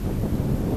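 Brief, rumbling gusts of wind buffeting the microphone, low and blustery with no voices.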